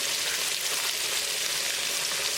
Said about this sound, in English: As the oil start to heat up, add garlic.